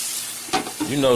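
London broil steak searing in a covered pan, a steady hiss and sizzle with brief clatter, while someone talks over it.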